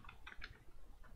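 Quick, light clicks of a computer keyboard typing in short bursts, moderately close and fairly quiet, with no one talking over them.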